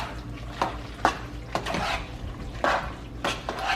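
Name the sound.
mixing mac and cheese ingredients in a dish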